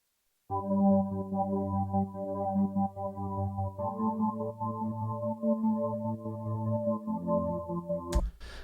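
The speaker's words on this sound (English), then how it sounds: "it's a pad basically with a tremolo effect" A sustained synth pad holds low chords for about eight seconds, its volume pulsing rapidly in a steady tremolo, ending abruptly with a brief noisy burst.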